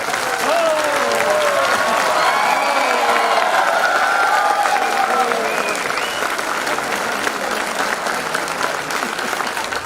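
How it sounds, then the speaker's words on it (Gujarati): Students stand and give a teacher loud, sustained applause mixed with cheering and shouts from a large crowd at an honoring ceremony, continuous and dense throughout. "પોતાની જગ્યા ઉપર એક વખત ઊભા થઈ જોરદાર તાળીઓ અને કિલકિલાટ સાથે"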